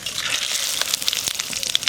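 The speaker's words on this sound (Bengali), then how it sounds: "শুকনো লঙ্কা, তেজপাতা দিয়ে দেবো।" Cumin seeds, dried red chilies and a bay leaf sizzle in hot mustard oil in a village kitchen wok, a steady close crackling hiss with a few sharper pops over the short stretch.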